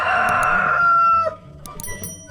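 Rhode Island chickens on a farm, a rooster crowing loudly and close, the call trailing off into softer scattered clucks and faint farmyard noise.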